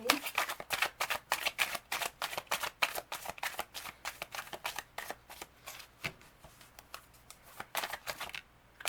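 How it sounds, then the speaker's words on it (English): Tarot cards are shuffled close up in quick, crisp riffling bursts and flicks, a rhythmic train of papery snaps that pauses briefly midway before resuming; a voice is faintly present underneath. "Let's check the tarot cards."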